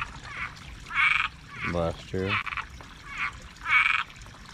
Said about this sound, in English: we have so many Cuban tree frogs